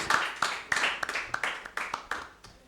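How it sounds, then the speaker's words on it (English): A small group of hands claps at a quiz event, roughly a dozen separate, uneven claps spread over nearly three seconds, close and fairly loud with no continuous roar of a large crowd. "A round of applause."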